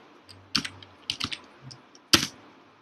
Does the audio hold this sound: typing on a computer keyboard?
yes